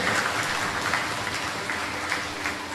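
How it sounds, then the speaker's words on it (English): An audience applauds at a UNC award ceremony in Mayaro, a steady wash of clapping from many hands that holds at an even level with a few louder swells throughout. "A round of applause for him."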